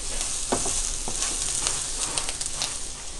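Stuffed masala okra (bhindi) cooks in a pan with a steady, close sizzle and scattered crackles and stirring clicks throughout, no voices.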